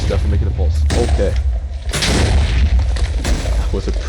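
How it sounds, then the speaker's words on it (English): A big TNT blast in Minecraft, with loud repeated booming detonations rumbling one after another, close and heavy, and a voice talking briefly over the explosions. "That was a pretty big explosion."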